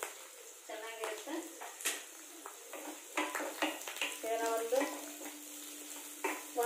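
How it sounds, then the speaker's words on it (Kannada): Finely chopped onions sizzle and fry in a pan for channa masala, a steady crackle broken by stirring clinks of a utensil against the pot, with someone talking over the cooking. "ಇವಾಗ ನೋಡಿ ಇದು ಉಳ್ಳಾಗಡ್ಡೆ ಫ್ರೈ ಆಗ್ತಾ ಇದೆ"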